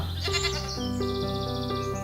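A cartoon goat in an animated jungle story gives a drawn-out, wavering bleat that carries clearly through the whole clip, with a faint low background tone beneath it.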